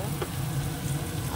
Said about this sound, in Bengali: পেঁয়াজটা ভাজা হয়ে গেছে, দিয়ে দেবো এবার আদা বাটা, রসুন বাটা,